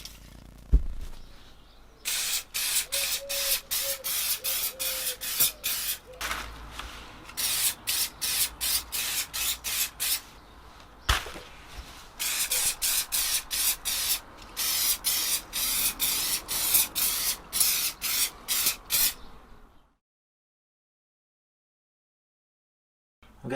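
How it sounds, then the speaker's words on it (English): Aerosol protector spray applied to Gucci canvas sneakers in a well-ventilated area, many short hissing bursts in quick repeated succession, close and fairly loud, ending in silence. "we're going to be spraying this in a well ventilated area as per the instructions"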